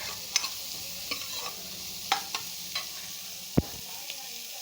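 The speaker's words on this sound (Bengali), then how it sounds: "পেঁয়াজটা দিয়েও একটু নাড়াচাড়া করে নেব।" Chopped onion with garlic frying in a pan, stirred with a spoon that scrapes and taps several times at irregular intervals over a quiet steady sizzle, close and without talk.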